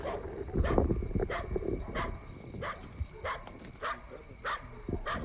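Dogs barking at night a few metres from a cemetery in El Triunfo, Baja California: a string of short, fairly distant barks over a steady whine of insects.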